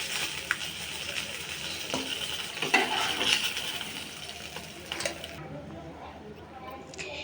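Whole tilapia fish crisp-frying in hot oil in a wok, a steady bubbling sizzle that carries on for several seconds and then cuts back sharply toward the end, with light stirring scrapes.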